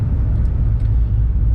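Cammed C6 Corvette engine idling with a deep, steady low rumble close by, no rising rev sweep, just a continuous burbling drone.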